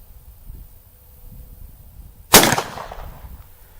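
A Midland Arms .410 shotgun fires a single Winchester number 8 shot load, one sharp loud crack with a brief decaying tail outdoors, preceded by quiet ambient background.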